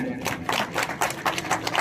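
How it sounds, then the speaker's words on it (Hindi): An audience at a celebration of a Hindi news outlet reaching 100K Facebook followers claps in a lively, close burst with individual hand strikes clearly audible. "बार दिन के लिए एक बार जोरदार तालियां।"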